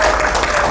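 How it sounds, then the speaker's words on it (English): A brief burst of applause from a crowd, dense and fairly loud, with a faint tone running underneath. "A hand of applause, please."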